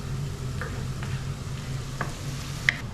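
Kottu ingredients fry in a hot pan while being stirred, a steady low sizzle broken by a few scrapes and a sharp clink of the utensil near the end, close by with no talk.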